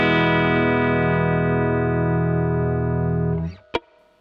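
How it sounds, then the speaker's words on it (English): Clean electric guitar chord sustaining through a compressor pedal set just below unity, ringing steadily with light amp spring reverb, then damped to a quick pick-attack click and fading tail. "At the moment, you're hearing a little bit of reverb from the amp."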